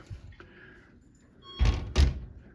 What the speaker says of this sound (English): let me close these doors